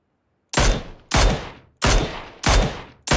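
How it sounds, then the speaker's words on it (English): Gunfire in the video game PUBG: five loud, single shots spaced evenly about half a second apart, each with a sharp crack and short decaying tail, with no talk. "I'm shooting this guy in the face."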